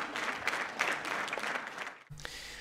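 Applause from an audience, a steady wash of clapping that cuts off abruptly near the end before a brief new sound starts.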